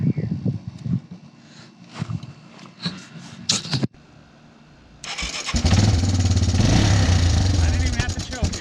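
A Yamaha Timberwolf quad, just refitted with a cleaned carburetor, cranks, catches after a brief pause and settles into a loud, steady engine run up close, with some talking and handling noise before it starts.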